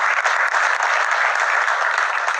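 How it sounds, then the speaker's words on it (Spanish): Steady, loud applause from a studio audience on a television talk show, a dense wash of many hands clapping continuously with no pauses. "les damos un aplauso de agradecimiento por compartir sus historias con nosotros"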